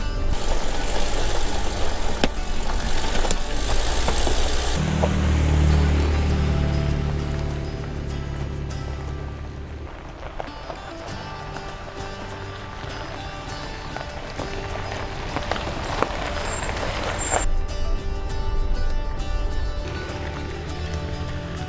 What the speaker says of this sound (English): the Jeep has a cracked exhaust manifold, so you're hearing a really bad exhaust leak throughout this whole video